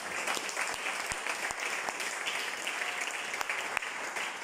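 A church congregation applauds, a steady wash of many hands clapping at moderate distance, with a few sharper individual claps standing out, even and continuous for the whole stretch.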